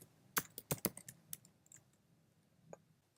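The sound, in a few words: typing a command on a Mac computer keyboard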